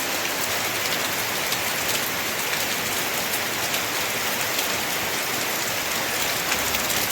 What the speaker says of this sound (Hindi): मूसलाधार बारिश शुरू हो चुकी है।